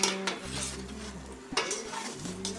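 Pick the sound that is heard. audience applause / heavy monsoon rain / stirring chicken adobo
stirring chicken adobo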